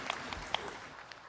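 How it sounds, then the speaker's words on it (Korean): A Sunday church congregation claps in praise, a quiet, sparse run of hand claps with a few sharper individual claps standing out, brief and somewhat distant. "하나님께 영광의 박수를 올려드리겠습니다"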